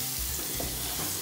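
Food with crushed garlic sizzling in a pan as it is gently stirred, a steady bright hiss with faint scraping, loud and close, no talking.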